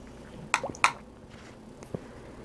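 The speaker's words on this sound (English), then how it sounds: "Just wetting my brush here. So I'm going to add a little bit of water." A watercolor paintbrush swished and dabbed in a water cup: a few soft wet clicks and squishes close by, with brief pauses and a faint tap near the end, no talking.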